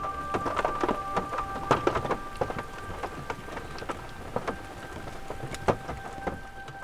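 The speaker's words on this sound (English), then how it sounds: "The night rain ended up being pretty mild." Mild night rain falls in the Peruvian jungle, a soft patter of scattered drops tapping on a nearby surface. A faint, steady drone runs beneath the irregular drips throughout.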